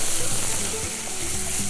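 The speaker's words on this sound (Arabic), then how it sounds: "هبدا انزل بالبصله بتاعتي، بصله مفرومه ناعم كويس جدا او متقطعه مكعبات صغيره جدا" Finely chopped onion sizzles in a hot pan with a dense, continuous crackling hiss and faint scraping from stirring, close and steady.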